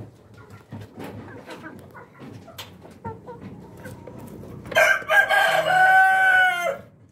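A Rhode Island Red rooster crows loudly and close in a breeding pen, one long drawn-out call near the end, after quieter clucking and scattered farmyard sounds from the chickens.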